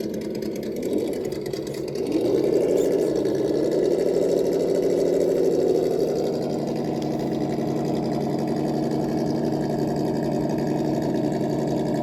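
A Traxxas TRX4 High Trail RC truck running a Hobbywing Fusion SE motor system gives a steady electric whine that rises in pitch after a couple of seconds, then holds even and close with no talking.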